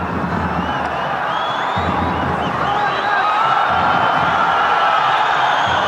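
A football stadium crowd at a World Cup qualifier between Armenia and Spain roars in protest, wanting a foul, a loud, continuous mass of voices that swells slightly toward the end.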